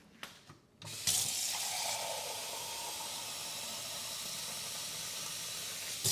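Tap water runs steadily into a pot for a recipe calling for about nine cups, a close continuous hissing rush that starts after a few brief clanks.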